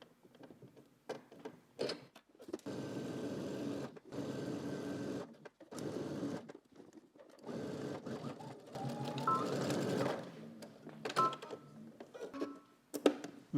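A sewing machine stitches down a placket on a Simplicity S9822 garment, running in several bursts of steady mechanical whirring separated by short pauses, close and moderately loud.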